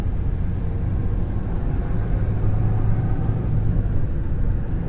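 A car driving along a road in Krasnodar, heard from inside as a steady low engine and tyre rumble with faint road hiss, constant and unbroken.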